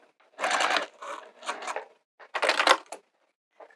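A sewing machine stitching TPU vinyl at a 3 stitch length, several short rapid runs of needle clatter separated by brief pauses, close and clear.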